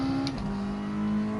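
A Mazda touring car engine in a racing game hums steadily on a light throttle at Spa, its pitch dipping slightly and then holding an even drone.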